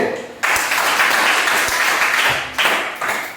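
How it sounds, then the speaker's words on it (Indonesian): Schoolchildren in a classroom clap for a group of classmates, a loud burst of close applause that fades, then a second burst starts up near the end. "Tepuk tangan buat kelompok B."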